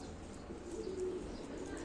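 Ankara tumbler pigeons, sold as play birds at a live auction, give a faint, brief coo that rises softly out of a low, steady background murmur.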